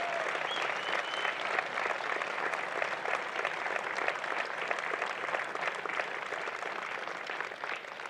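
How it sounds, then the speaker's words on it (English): A convocation ceremony audience at Trent University in Peterborough gives sustained applause, a dense, even roar of many hands clapping that holds steady for several seconds. "could we all give a round of applause to all the people it takes to organize the convocation?"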